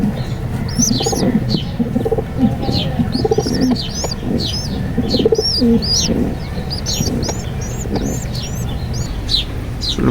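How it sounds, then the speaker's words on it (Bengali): Young wild pigeon chicks kept in a home flock coo steadily at close range, with bright chirps and tweets from other birds repeating over a constant low background murmur. "এই যে আমার বন কবুতরের বাচ্চা।"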